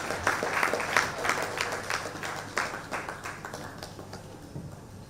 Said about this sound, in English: A round of applause for her as she comes off stage to deliver her presentation